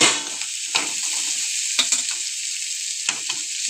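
Ragi upma with tomato cooks in a pan as a steady, close hissing sizzle, with a few brief scrapes and taps of a spoon stirring through it and no talking.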